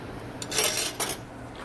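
Cooking pot being stirred for crab-stuffed shells, then shifted off the burner: a short burst of scraping and metallic clatter near the middle, with a quieter second scrape right after.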